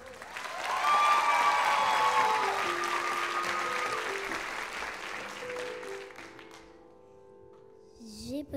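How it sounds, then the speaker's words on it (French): A television studio audience applauds a young girl singer, Inès, as she is introduced, with clapping swelling then fading over music before singing begins. "je vous demande d'applaudir Inès"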